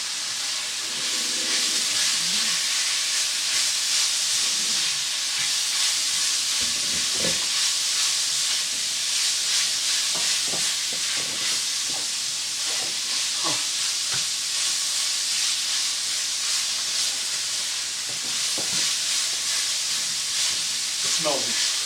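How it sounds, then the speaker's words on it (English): Onions and sausage sautéing for jambalaya in a pan, a continuous bright sizzle and hiss throughout with occasional scraping and stirring clinks, close and loud. "So I'm just going to saute this all together and then add the rice to this, coat it with the fat."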